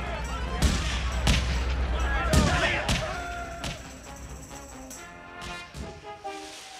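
Sharp bursts of gunfire in a sci-fi comedy movie, with several loud, separate shots spaced irregularly across the first few seconds, then quieter thumps and scattered noise mixed with film sound.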